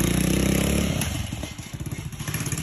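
A motorcycle engine runs up close, a steady loud drone settling into a throbbing, pulsing idle chug as it drops back, with no talk.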